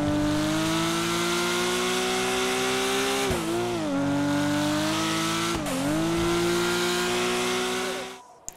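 A Porsche 911 in the GTA 5 game drives along small winding roads, its engine holding a steady, loud, close drone with two brief dips in revs, as on gear changes, before it cuts off at the end.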